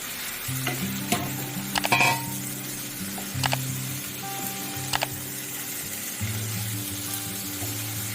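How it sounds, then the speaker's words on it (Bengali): Fried potatoes and pointed gourd sautéed with spices in a pan for a thin katla fish jhol: continuous close sizzling with repeated metallic spatula clinks and scrapes against the pan. "এবারে আলু পটল যে ভেজে রেখেছিলাম ওটা দিয়ে দিলাম, মশলার সাথে কষিয়ে নেব।"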